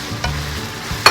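Tofu cubes hit a hot pan of frying shrimp for palabok, crackling sizzle with stirring scrapes and a sharp burst of frying near the end, close and fairly loud.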